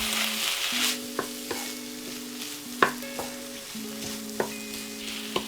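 A tomato-and-ketchup sauce thickened with flour sizzles steadily in a frying pan on the stove, with sharp scraping taps of a utensil stirring it at irregular intervals, close and fairly quiet, no voices.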